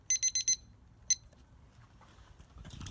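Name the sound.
kitchen timer alarm going off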